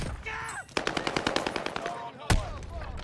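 Automatic gunfire in a first-person shooter game, a rapid steady burst of about a dozen shots lasting over a second, then a single sharp blast, with a faint voice underneath.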